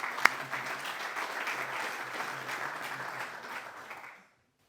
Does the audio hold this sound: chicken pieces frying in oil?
no